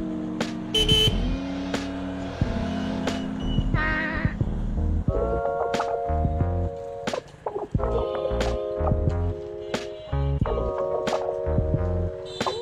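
CFMoto NK 250 motorcycle ridden on the road, with a steady engine drone that rises and falls through gear changes, stepped tonal bands repeating as it revs, plus scattered sharp clicks and passing traffic noise.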